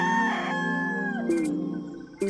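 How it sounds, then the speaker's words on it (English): A rooster crows near a compound in Africa, one drawn-out call with a falling tail, heard close and fairly loud against faint background sounds. "The rooster never stops crowing."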